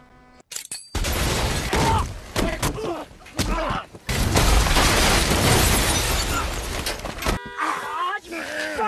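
A landmine blast followed by chaotic battle noise in a film, bursts of gunfire and booms crowding together, with voices shouting amid the din.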